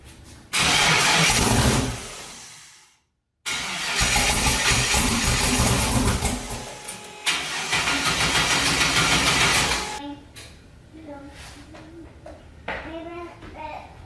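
A car engine cranks loudly in long bursts without starting, with a brief silent pause between, then stops; children's voices chatter faintly afterward.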